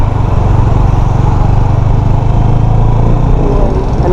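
A 2017 KTM Duke 250 motorcycle engine drones steadily while riding in Bangalore, loud and close with constant wind rush and a slight rise in revs toward the end.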